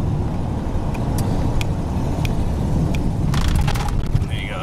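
A car with a 5.8 351 engine climbs a steep hill at about 40 mph, its engine and road noise a loud, steady drone with faint clicks and rattles from inside the cabin.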